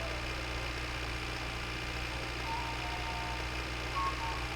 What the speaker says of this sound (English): we're going on a mini bike journey